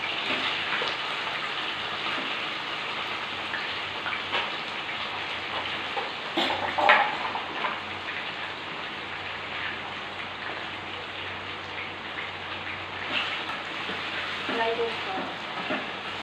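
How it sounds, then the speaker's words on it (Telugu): Chicken pieces frying in a pan, a continuous dense sizzle with occasional louder crackles and stirring scrapes, close and steady throughout with no talking. "వీటిని మంచిగా ఫ్రై అయ్యాక ఆ కేజీ చికెన్ ముక్కలు"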